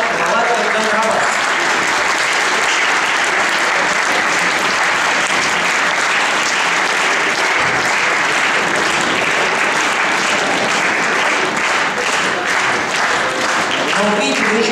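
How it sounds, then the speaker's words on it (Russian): Audience applause at a concert by a balalaika sextet in a concert hall, dense and loud clapping from a large crowd that continues steadily for about fifteen seconds without pause. "вы еще ничего не сыграли, а уже такие аплодисменты"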